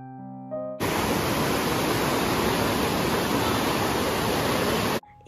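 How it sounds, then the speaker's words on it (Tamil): Flowing river water near the Seetha Devi temple in cool, hilly Nuwara Eliya, a loud, steady broadband rush that starts abruptly and runs unbroken, close and alone. "இது இந்த தண்ணியோட சத்தம் எப்படி இருக்குன்னு சொல்லி நீங்களும் கேளுங்க."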